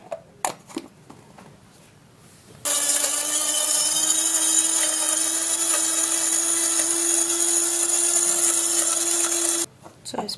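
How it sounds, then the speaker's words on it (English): A kitchen blender whirs loudly and steadily for about seven seconds, a constant motor drone with a strong tone, starting and stopping abruptly after a few clicks and taps. "And then grab a blender"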